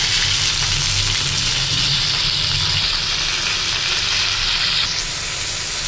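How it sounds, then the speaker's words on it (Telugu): Curry leaves and sorrel leaves fry in a hot pan with a loud, continuous sizzle, close up, while a spatula stirs them now and then. "కరివేపాకు కొద్దిగా వేసుకొని బాగా వేయించుకోవాలి"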